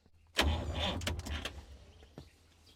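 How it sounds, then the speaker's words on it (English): A weak starter motor on an old ex-army 6x6 truck briefly grinds and labors, turning the engine over sluggishly for about a second before a few faint clunks trail off. "Either the starter motor or our battery's a bit too weak. It is turning, but it doesn't want to spin it over"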